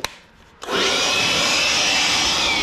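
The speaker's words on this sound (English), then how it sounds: "One of my favorite tools, the Ryobi One Plus bench blower." Ryobi One Plus bench blower: a sharp click, a brief lull, then the blower whooshes up to full speed and holds a loud, steady, close rushing roar with a faint whine, no talking.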